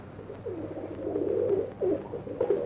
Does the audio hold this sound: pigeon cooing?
yes